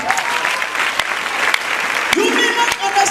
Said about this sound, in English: Help me clap for God.